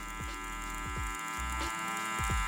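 A hair clipper, with its lever set at three-quarters, is worked softly over a half-clip taper fade. It gives a steady, quiet electric hum with faint low throbs as the blade passes repeatedly over the hair.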